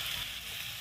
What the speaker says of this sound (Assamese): এনেকৈ কেৰাহীত মাংসখিনি এনেকৈ অকণমান ভাজি লৈছোঁ।